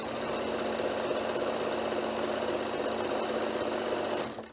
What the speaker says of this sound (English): I'm going to stitch right to the end, and I'll do a corner.